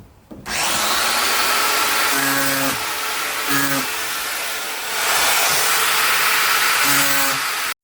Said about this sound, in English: I'm just gonna sand a little bit of this down.